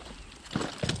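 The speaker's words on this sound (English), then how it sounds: "There's a horse, okay." Horse in the video game Far Cry 6: a couple of soft hoof clops over a low ambient game bed, fairly close and brief, with no speech.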